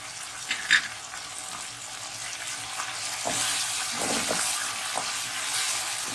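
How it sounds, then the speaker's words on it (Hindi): Steady sizzling of onion, tomato, yogurt and ginger-garlic paste frying in a pan for beef keema biryani, with a few soft stirring scrapes and clinks; no voices. "इसलिए मैं प्याज, टमाटर और ये दही, अदरक लहसुन डाल के थोड़ा सा भून लूंगी"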